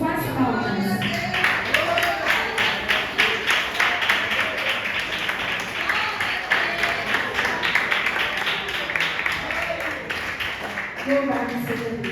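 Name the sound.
church congregation clapping to praise Jesus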